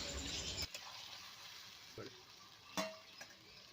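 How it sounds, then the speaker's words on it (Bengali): A spoon stirring fish and eggplant curry in a pan with a little water added, making a soft sizzle with a few faint scraping clinks, quiet and close. "অল্প একটু জল দিয়ে এটা ভালো করে নাড়াচাড়া করে নেব"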